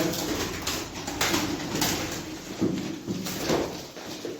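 Pigeons cooing at a pigeon auction where young flying birds are offered, low soft coos repeating over a constant busy background hiss, moderately close, no clear talking.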